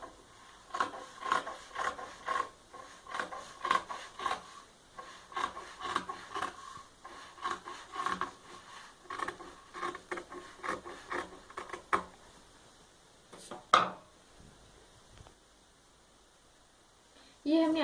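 Fabric pieces for a Kachhchi handbag being cut, heard as close, steady rasping snips in quick repeated strokes for about twelve seconds, then quiet with a single sharp sound near the end.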